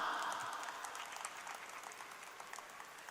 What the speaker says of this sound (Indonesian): boleh kita kasih tepuk tangan yang paling meriah dulu untuk MC kita